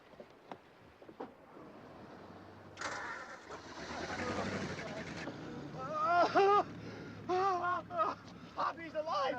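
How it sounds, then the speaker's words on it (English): A boat engine cranks and catches in a 1953 film scene at sea, a rising mechanical roar under wind and water noise, while urgent shouting voices overlap the running engine. "I start the engine quick."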